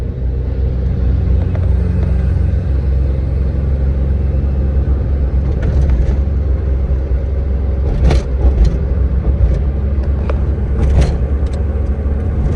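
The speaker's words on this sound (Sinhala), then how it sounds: "දැන් මම ඇක්සලරේ පාගනවා." An automatic car held in third gear revs as the accelerator is pressed, a steady close engine rumble with faint brief knocks and no voices.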